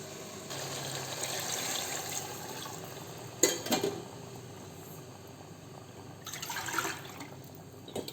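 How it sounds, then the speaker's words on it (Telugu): Water pours into a pot of rice being cooked for chicken biryani, with a steady low splashing run, a brief louder slosh near the middle, and another swell of pouring toward the end, fairly close and fairly quiet. "రెండు గిన్నెలకి సగానికి నీరు పోయాలన్నమాట"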